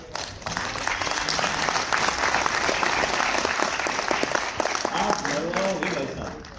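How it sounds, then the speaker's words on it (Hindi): Audience applause at a motivational seminar in Delhi, dense steady clapping from a large crowd filling the whole stretch, with a voice speaking briefly over it. "हर बार बजा देते हो ताली और सबको परेशान करते हो"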